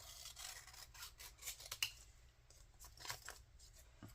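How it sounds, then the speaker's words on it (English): Scissors snip through paper card for a junk journal, several quiet close cuts at an uneven pace with a small sharp clack near the middle. "And then I cut this part off."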